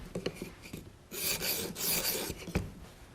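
A knife blade is stroked along the stone of an Edge Pro Apex sharpening system while a relief angle is cut at 15 degrees, giving a few light scrapes followed by longer, louder rasping strokes close up.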